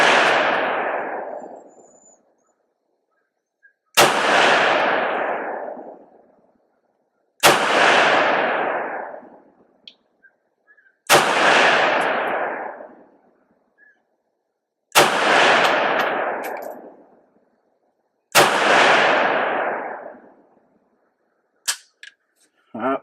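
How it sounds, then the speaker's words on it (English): Six loud, sharp rifle shots from an M10X-P PRO 12.5-inch rifle, evenly spaced about three to four seconds apart, each with a long ringing outdoor decay, followed by a couple of faint clicks. "let's go ahead and shoot 5 rounds"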